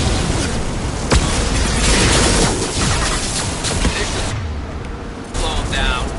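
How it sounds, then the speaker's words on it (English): Flashbang grenades bursting during a firefight in Mass Effect 2, a dense, loud wash of booms and gunfire that runs on throughout, with brief sharp cracks breaking through the barrage. "Watch out! Flashbangs!"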